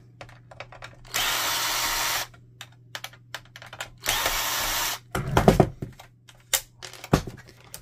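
A power drill whirs in two steady bursts, each about a second long, while removing screws from an Epson XP-4100 printer during disassembly, with clicks and handling clatter of plastic parts in between.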